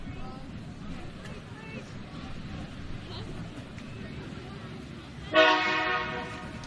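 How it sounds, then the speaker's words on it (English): A low rumble of a passing freight train runs steadily under background voices at a soccer match, then a loud horn blast sounds near the end and fades. "You hear the train in the background."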